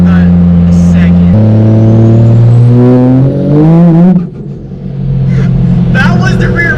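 Loud, close engine drone from an 800-horsepower 1995 Dodge Ram 2500 pickup with a 12-valve Cummins diesel, pulling hard and climbing in pitch midway before settling into a steady roar.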